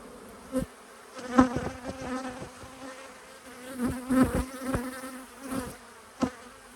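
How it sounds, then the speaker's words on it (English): Honey bees buzz around an open hive during an inspection, several close passes humming loudly in bursts over a quieter background drone. "the bees aren't particularly bothered about me being here"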